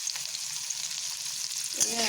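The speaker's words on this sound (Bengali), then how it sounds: "এবার আলুটা ভাজতে খুব সুবিধা হবে এবং নরমভাবে ভাজা হবে" Potato pieces seasoned with turmeric and salt fry in hot oil in a pan, giving a steady, close sizzle throughout with a brief louder crackle near the end.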